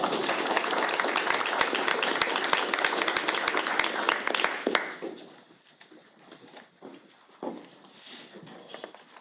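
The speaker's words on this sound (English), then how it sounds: "Give another round of applause." Applause in a board of education meeting room, dense and fairly loud for about five seconds, then dropping off abruptly into quiet room noise with a few stray claps and murmurs.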